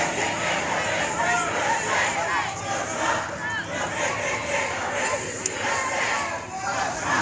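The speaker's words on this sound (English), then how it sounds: "I can hear them chanting up there too" Protesters chant together in a dense crowd on city streets in Uptown Charlotte, North Carolina, with more chanting from people on apartment balconies, a sustained rhythmic roar of many shouting voices at mid distance, steady throughout.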